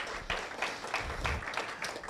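A church congregation applauds during a Spanish-language service, a steady wash of many hands clapping for about two seconds at moderate level, with no one speaking over it.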